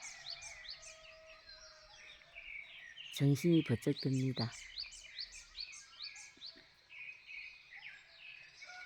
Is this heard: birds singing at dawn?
yes